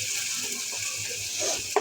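Dried Bombay duck fish (loitta shutki) frying in a pan, a soft steady sizzle with faint stirring scrapes and a brief clatter at the end.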